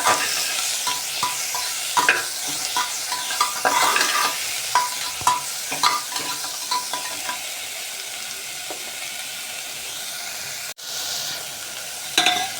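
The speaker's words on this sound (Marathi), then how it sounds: "आता आपण मिरचीचं वाटण केलं होतं ते घालूया याच्यामध्ये. ते पण छान परतवून घेऊया तेलावर." Green chilli paste sautés in hot oil in a pan, with a continuous sizzle and repeated scraping stirs of a spoon at close range, and a short sharp knock near the end, no voices.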